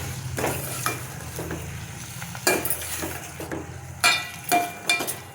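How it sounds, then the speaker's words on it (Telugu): Brinjal and tomato being stirred in a pan for sambar rice, with several scraping, clattering strokes of a spoon against the pan over a low hum and faint frying, close and moderately loud. "వంకాయని టమాటా వేసుకున్నాను పెట్టి మంచిగా కలుపుకోవాలి"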